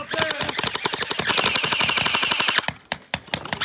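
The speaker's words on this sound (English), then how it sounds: "They're live firing at us." Paintball guns firing at a Halloween monster hunt at Steeltown Paintball in Pittsburgh, a loud rapid burst of sharp pops lasting a few seconds, then scattered single shots.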